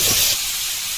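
Pointed gourd (potol) sizzles in a hot pan during outdoor Sundarban cooking: a steady, loud, hissing fry that swells briefly at the start, then settles into an even crackle, with no talk.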